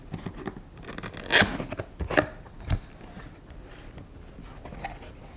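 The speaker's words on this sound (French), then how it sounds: "Allez, on commence à ouvrir le carton." Cardboard box of a Canon M50 camera being opened: a few sharp tearing and scraping bursts of cardboard and tape over quiet handling rustles, close and moderately loud.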